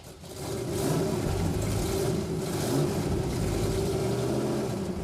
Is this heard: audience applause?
no